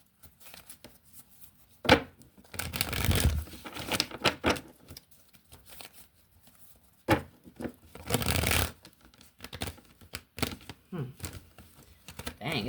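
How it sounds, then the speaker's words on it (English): A deck of cards is shuffled in several short bursts of riffling and patter separated by quiet gaps, close and fairly soft. "The cards barely want to shuffle."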